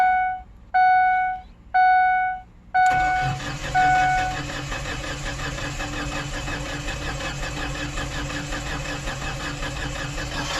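A few chimes sound, then a 2003 Ford Explorer 4.0 V6 with timing chain trouble cranks and catches, settling into a steady, rough idle that continues loudly to the end.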